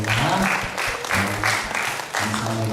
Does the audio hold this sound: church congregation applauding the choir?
yes